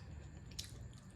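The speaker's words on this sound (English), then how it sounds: "I'm not fighting to chew the coconut" Quiet chewing of soft Jamaican coconut drops, a sweet made with coconut and sugar, with one brief squishy bite close to the mic and soft mouth sounds around it, no talking.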